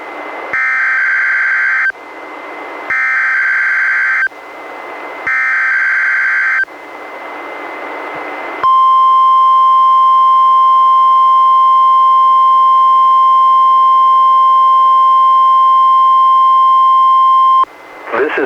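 NOAA Weather Radio warning alarm test: three loud two-tone buzzing bursts with short gaps, then one long, steady, piercing single tone held for about nine seconds before cutting off.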